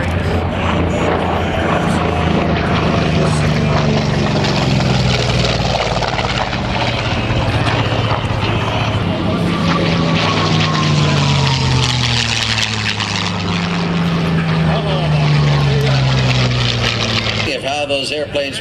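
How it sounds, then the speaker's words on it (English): WWII fighter planes with 12-cylinder inline Merlin V12 engines fly past at the Watsonville air show, a loud sustained roar with rising and falling engine pitch as they pass, a voice talking beneath. "The inline Merlin engines, the 12-cylinder engines, a whole different sound than the big round radials."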